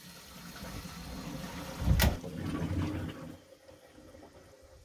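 Beer wort drains from the bottom tap of a brewing kettle during a homebrew ale batch, a soft gurgling pour that swells to a brief splashing surge and then thins to a quiet trickle.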